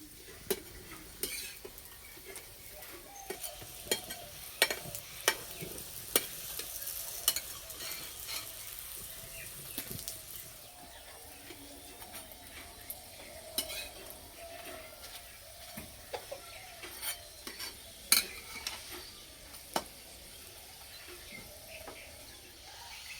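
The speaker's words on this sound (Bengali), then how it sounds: "দুই পিট ভালো করে ভেজে নেব" A sweet carrot Mughlai paratha fries in oil in a pan after being flipped, giving a steady sizzle with occasional scrapes and taps of a spatula against the pan, with no voices.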